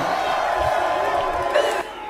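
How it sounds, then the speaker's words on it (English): A crowd cheers and roars throughout an 8 Mile rap battle, a dense, loud wash of voices and whoops that drops off abruptly near the end. "Crowd going crazy."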